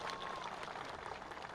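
Applause from an audience at a rally where a chief minister announces village water-supply projects, a steady broadband patter of clapping throughout, fairly faint and distant-sounding with a thin tone running through the first part.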